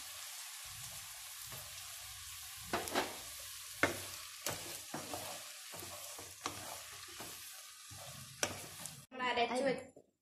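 Tomatoes and green chillies fry in a pan for quail biryani: a soft, continuous sizzle with repeated stirring scrapes and knocks, ending in a louder burst of crackling.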